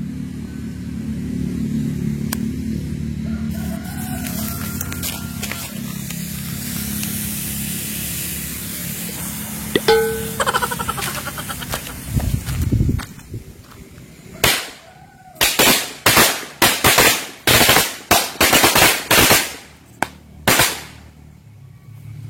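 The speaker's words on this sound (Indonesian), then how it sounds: "petasan korek setengah gepok." A half pack of small match firecrackers goes off outdoors in a rapid string of sharp cracks and pops after a long hissing fuse, the bangs loud and uneven, ending in a final scattered burst.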